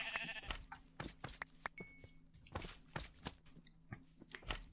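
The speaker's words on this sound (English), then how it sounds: "Oh, okay, that's just a sheep." A Minecraft sheep bleats near the start, followed by a quiet stream of clicky, crunchy game sounds with short bursts scattered throughout.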